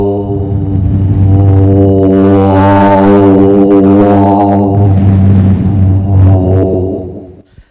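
A human voice imitates an airplane flying high over villages: a loud, sustained droning hum that swells and subsides over several seconds, close to the mic, with no other sound.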